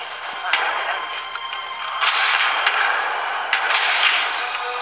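Gunfire from the PS Vita shooter Resistance: Burning Skies comes as several sharp, bright cracks in quick bursts over a steady game soundscape, moderately loud.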